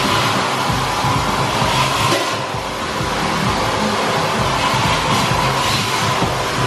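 A vacuum cleaner drones loudly and steadily at close range while it is used to clean car wheel arches, with no speech.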